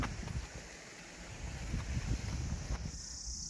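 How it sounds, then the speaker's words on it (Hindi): Forest stream water flows steadily near a lake outlet in Uttarakhand, a continuous rushing wash heard close and fairly loud, with some wind buffeting the microphone. "आप पानी की आवाज़ सुन रहे होंगे, ज़्यादा ही आ रही है कुछ"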